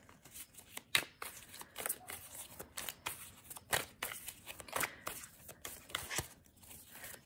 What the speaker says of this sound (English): I shuffle the cards a million times before I start these readings